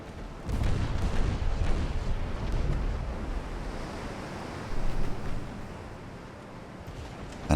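Warship guns firing in the naval game Ultimate Admiral: Dreadnoughts, deep rumbling booms rolling over a constant sea-and-wind roar, with a heavier swell of blasts midway and another at the very end.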